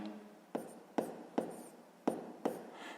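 Pen writing numbers for a sixth-grade math exercise, five distinct close tapping strokes on paper at a quick, slightly uneven pace with soft scratching between them.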